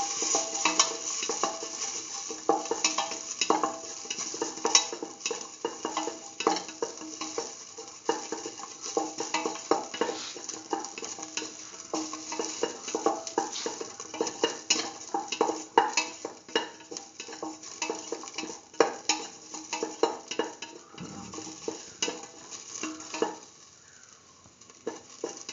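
Ginger sauteing in a pan: a continuous soft sizzle with frequent scraping and clinking from a utensil stirring against the pan, close up and steady throughout, fading slightly near the end.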